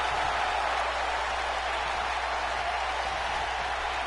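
Crowd at a wrestling championship match roaring and applauding, a dense, steady wash of cheering noise at a constant loud level, with no distinct voices standing out.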